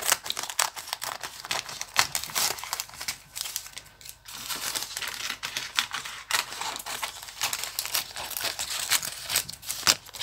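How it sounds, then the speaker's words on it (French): Paper being cut while preparing a cake tin for baking, giving a run of soft crisp snips and crinkles at close range with brief quiet gaps, and no talking. "moi, je vais venir découper un petit peu là le papier"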